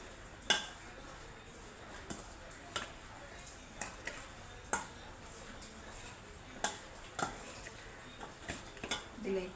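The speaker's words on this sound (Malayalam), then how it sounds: "നന്നായി ഇളക്കി വെക്കുക." Chili powder being stirred into vaduka puli, a Kerala lime pickle, with a spoon clinking against a bowl in sparse, soft taps spaced irregularly, quiet and close, with a voice speaking faintly.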